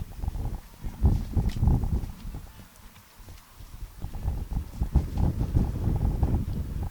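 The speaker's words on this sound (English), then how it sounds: "As the wind picking up here a little bit" Gusty wind buffets the microphone at an outdoor baseball field, a low rumbling roar that swells and fades in waves, dipping briefly before picking up again.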